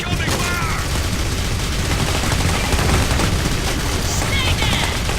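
Dense, continuous gunfire fills the scene in the video game Clive Barker's Jericho, with rapid overlapping shots and booms at steady loudness. Faint shouted voices come through in the mix.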